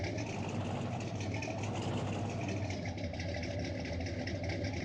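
A big tractor idles in Farming Simulator 19 on a farm in Bucks County, Pennsylvania, its engine running as a steady, close diesel drone with a constant low throb and no speech over it.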